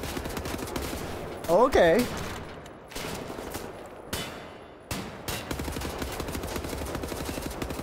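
Bursts of rapid gunfire ring out in Wolfenstein, sharp automatic volleys and single shots scattered across the stretch with a brief word spoken in between.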